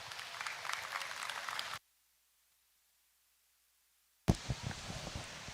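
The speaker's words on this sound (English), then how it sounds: "Let's give them a round of applause as they leave the ring" Applause for young exhibitors leaving the ring at a breeding doe show in the Super Barn Arena, a broadband patter that stops abruptly, leaving a gap of near silence before clapping resumes with sharp individual claps close by.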